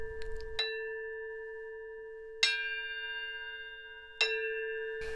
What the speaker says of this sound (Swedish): Hör gonggongen.